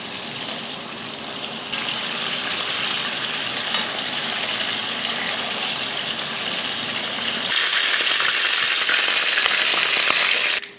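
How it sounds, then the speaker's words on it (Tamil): Chicken pieces for a coconut-milk chicken fry sizzle in hot oil, a loud, steady, close crackle that goes on without a break and swells slightly toward the end. "எண்ணெயில் இது போல் நல்லா பார்த்தீங்கன்னா 2 பக்கம் வேக வச்சு வறுத்து எடுத்தாச்சு."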